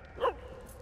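A Doberman Pinscher in the World War I video game Valiant Hearts lets out a single short bark, moderately loud over a quiet game background.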